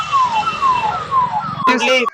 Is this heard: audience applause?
no